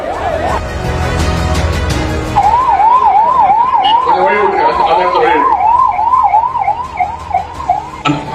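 An ambulance siren wails in a rapid, wavering yelp, close and loud, starting after a couple of seconds of street noise and carrying on steadily.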